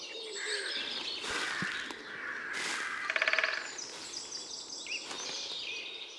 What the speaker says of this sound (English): That was the drumming of the greater spotted woodpecker.